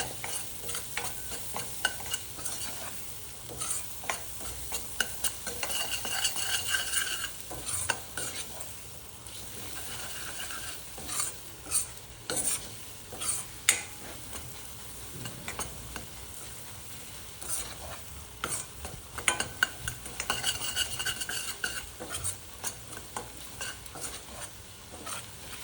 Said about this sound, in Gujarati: થોડીક વાર આપણે ઓનિયનને સાંતળી લેવાનું